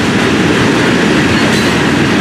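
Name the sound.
train passing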